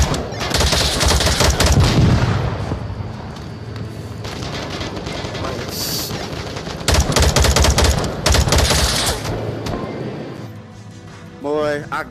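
Rapid bursts of video game gunfire crackle through most of the stretch, loud and dense, mixed with booms while players talk over it.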